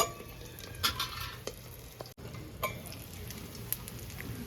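Fish frying in a pan over a low flame, a steady soft sizzle with occasional stirring scrapes and utensil clinks close by.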